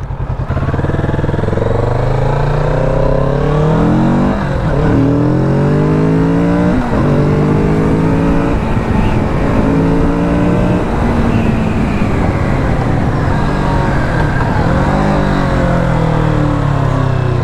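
A Kawasaki Z650 RS motorcycle engine loud and close, revving through a series of downshifts with rising and falling pitch sweeps as the rear wheel slides, continuous throughout.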